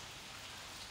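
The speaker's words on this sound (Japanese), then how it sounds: "雨で洗車してますよ" Rain pattering steadily on a car in a tunnel area in Kanagawa at night, a dense, even hiss of drops close by with no voices.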